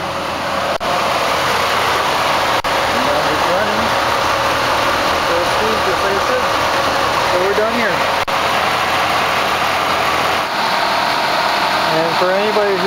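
A Dodge Ram engine idles steadily with the air conditioning on and the AC condenser fan running, a loud constant drone with faint whines, while someone talks over it.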